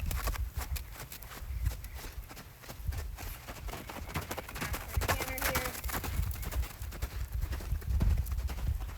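A horse's hooves clip-clop on the ground as it comes down from a canter to a walk, a dense run of near hoofbeats that settle into a steadier gait.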